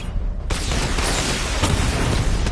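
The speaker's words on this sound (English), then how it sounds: "Missile barrage level 2 ready." Level 2 missile barrage firing in a Batman video game: an abrupt loud whooshing, crackling blast fills the clip with sustained roaring noise and small pops after the launch.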